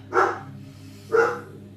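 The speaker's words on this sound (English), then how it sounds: "excuse my dog." A dog gives two separate barks about a second apart, close and fairly loud over a low steady hum.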